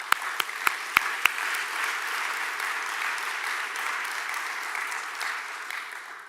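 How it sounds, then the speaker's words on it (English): A business conference audience at Invest Jamaica 2022 breaks into sustained applause, opening with a few sharp individual claps before settling into a broad, even wash of clapping that carries steadily and fades slightly toward the end. "A round of applause"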